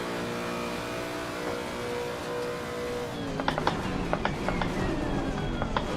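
A Lexus race car in a racing sim hums at steady engine drone, then a series of sharp mechanical clicks and rasping gear-like pulses cut in over a rising engine note.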